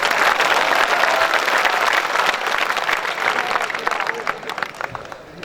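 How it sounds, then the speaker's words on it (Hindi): Dense, sustained applause from a large audience at a night-time Hindi poetry recital, a kavi sammelan in Rajasthan, steady and loud throughout and slowly thinning toward the end. "मैं नहीं भी कहूंगा तो भी आप तालियां बजाएंगे।"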